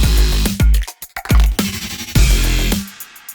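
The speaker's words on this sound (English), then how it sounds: "by using the spectral frequency shifter, I could create a sound like this" Processed sound effect built with a spectral frequency shifter, a series of thick, bassy, growling bursts with metallic smeared highs, several loud swells cut by short gaps, standing alone with no talk.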